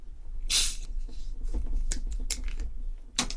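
A can of Brother Soda strawberry alcoholic drink, a 3% seasonal limited edition, cracks open with a sharp pop and a short fizzing hiss of strong carbonation, followed by a few quieter metallic clicks and taps nearby.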